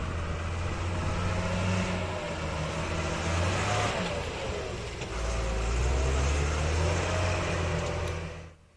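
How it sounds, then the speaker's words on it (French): An off-road motorcycle climbing a mountain track near Mount Olympus, its engine a continuous mid-pitched drone that rises and falls with throttle and swells louder in the second half before cutting off. "nous sommes montés en moto"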